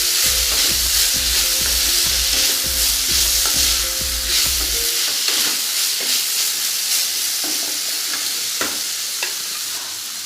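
A spoon stirs guava chutney in a pan over medium heat, making a rhythmic scraping and clacking for about five seconds, then giving way to a steady soft sizzle and hiss with no talking.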